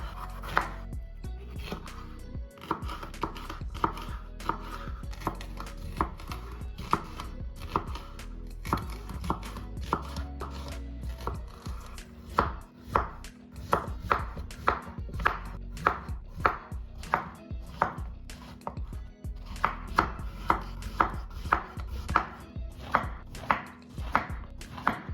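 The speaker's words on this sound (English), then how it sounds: "Then I chop all the vegetables." Knife chopping bell peppers and zucchinis on a cutting board, a long series of sharp rhythmic cuts that speed into quick steady runs, close and clear with no talk.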